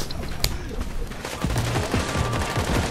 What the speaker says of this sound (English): You better get sniped, Jason.